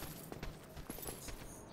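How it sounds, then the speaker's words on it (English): Game footsteps in a dim dungeon basement of Dark Souls, several soft thuds spread irregularly over two seconds, faint and distant under low ambient rumble. "Yeah, there's definitely footsteps."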